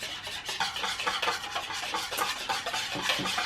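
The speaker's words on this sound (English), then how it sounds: "So you just gotta keep mixing it until it's whipped." Dalgona coffee being mixed until whipped, a quick, steady rhythmic whisking and scraping sound that repeats without break, close and moderately loud with no talk.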